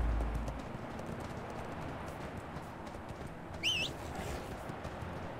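Horse hooves clip-clop steadily in the video game ArcheAge, a soft continuous trotting patter under a noisy ambient bed, with a brief bird-like chirp partway through.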